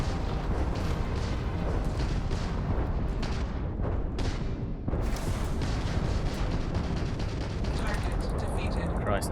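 Spaceship weapons fire nonstop in the video game Starfield, a loud, dense barrage of rumbling booms and rapid blasts that continues without a break, with a voice speaking over parts of it.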